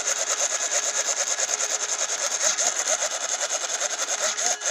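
A Spektrum 9020 RC servo whirs quickly back and forth in a fast, regular buzzing rhythm, loud and close, running steadily without pause for several seconds.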